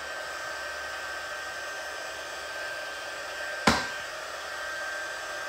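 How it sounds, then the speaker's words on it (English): A heat tool on its heat setting, used to set ink on a coloring page, blows as a steady, fairly loud broadband whoosh throughout, with one sharp click or knock partway through. "Now I have to heat set this and that's going to be noisy"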